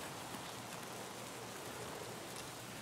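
Rain in the video game Escape From Tarkov, a soft, continuous hiss of falling drops at low level, even and unbroken with no other sounds or voices.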